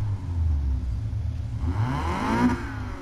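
A Volkswagen Golf GTI engine in the racing game Need for Speed Payback revs up, its pitch rising steadily in the second half, loud and close with no talk over it.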